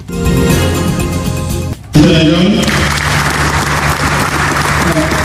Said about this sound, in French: C'est sous ces applaudissements que le gymnase de la NBA Academy Africa est inauguré